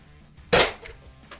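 A single sharp pop of a toy gun firing, close and crisp, followed by a couple of faint puffs in an otherwise quiet space.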